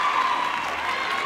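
Cheering and applause from a gymnastics meet crowd after a floor routine ending in a double back, including the gymnast clapping for herself, a steady dense wash of noise filling the arena.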